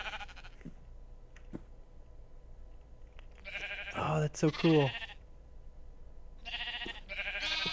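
Baby sheep bleat in the Terrafirmacraft video game, a short cluster of wavering bleats in the middle, fairly close and loud, with a person talking briefly before and after.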